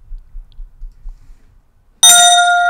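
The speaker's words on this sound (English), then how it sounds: "Bell?" A bright electronic bell hit from a drum kit rings out suddenly after near silence and sustains with a clear metallic tone.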